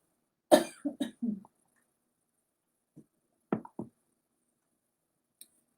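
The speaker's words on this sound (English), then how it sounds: "Trying to start coughing" A few sharp coughs close to the mic, a quick cluster at first, then a single faint one and another short burst after a pause, in quiet surroundings.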